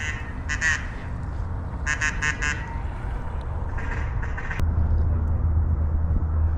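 Several ducks quack in quick clustered bursts in Arkansas flooded timber during a duck hunt, moderately distant, over a low background rumble with no talk.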